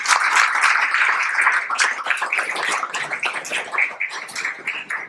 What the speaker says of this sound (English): can we just get a quick round of applause for our expert panel?